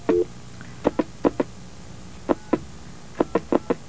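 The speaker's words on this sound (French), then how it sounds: "Première composition de ce numéro de téléphone." A telephone number is dialed on a keypad: a short opening tone, then about ten crisp, evenly spaced button tones in quick clusters, close and clear, with no voices.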